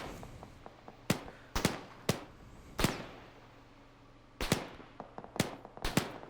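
Rifle shots in the video game Arma 3, sharp, loud cracks fired singly and in quick pairs at irregular intervals, with fainter distant pops and a low rumble of battle between them.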